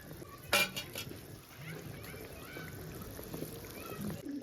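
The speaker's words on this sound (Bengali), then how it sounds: "এবার মাছগুলো দিয়ে দেব।" Pieces of latha fish drop into a simmering curry with a sharp splash, followed by soft bubbling, stirring and the faint clink of a pan.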